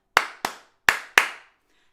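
Two hands clap a short rhythm during a home singing lesson: four crisp, close claps in two quick pairs separated by a brief pause, alone in an otherwise quiet room.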